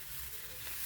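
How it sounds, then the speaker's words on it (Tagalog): Soup with miswa noodles boiling in a pot, giving a steady close bubbling hiss that holds even throughout, with no one talking. "Yan, kumukulo na siya."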